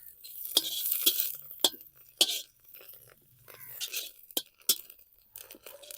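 Fenugreek seeds frying in hot oil in a kadai, with irregular crackling pops and clinks spread over a soft sizzling hiss, close by and moderately loud.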